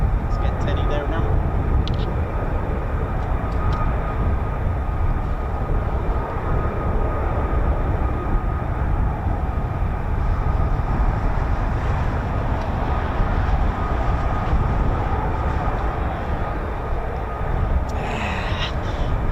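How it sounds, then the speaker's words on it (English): A Pratt & Whitney F-135 engine on an F-35B jet at RAF Marham gives a steady, distant rumbling roar that carries throughout, with a voice talking over it. "this is RAF Marham, and you can hear the sounds of the Pratt & Whitney F-135"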